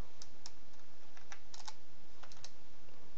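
A computer keyboard is typed on in short irregular bursts of crisp key clicks, close and fairly clear over a steady background hiss, with no talking.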